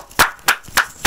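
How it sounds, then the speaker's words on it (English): Four sharp, close hand claps from a single person land at an even, slightly slow beat, each one crisp and quickly fading. "let's give him a round of applause"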